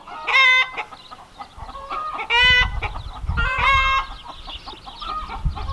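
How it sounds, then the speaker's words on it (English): Backyard farm chickens cluck and squawk in agitated bursts, with several loud drawn-out cackles standing out over steady lower clucking and faint rustling, close by. "the chickens are making a scene over here"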